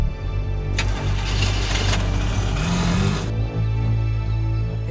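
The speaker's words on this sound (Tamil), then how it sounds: "ஏய் வண்டி அடி." A vehicle engine starting, a loud surge of broadband roar lasting a couple of seconds over a continuous low rumble, with no talking.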